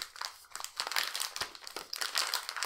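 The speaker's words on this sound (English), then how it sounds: "It comes in the Cadbury's Flow Bar, the Flow Wrapper, which is this kind of affair. So it opens like so." Crinkly plastic flow wrapper of a Cadbury Dairy Milk Oat Crunch bar being pulled open, a run of sharp, quiet crackles and rustles in uneven bursts, close to the ear with no talking.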